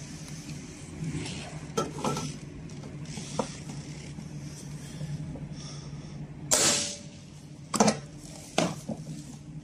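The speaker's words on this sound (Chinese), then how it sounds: "我们再试焊一颗不锈钢的，也是 M8 乘18的这个不锈钢的焊钉的焊接情况。" A stud welder fires a stainless steel M8x18 weld stud onto color steel tile, giving a sharp, loud crackling burst over a steady low workshop hum, followed by a couple of shorter snaps.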